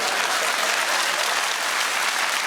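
A studio audience at a comedy show claps in dense, continuous applause that stays loud and steady throughout, with no speech over it.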